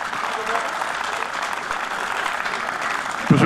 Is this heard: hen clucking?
no